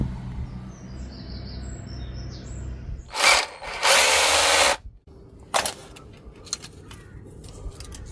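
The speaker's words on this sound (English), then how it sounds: "To take these screws out and put the bolts in." Power drill backing screws out of cottage shutters, with two loud whirring bursts of about a second each, one short burst after, and birds faint in the outdoor background.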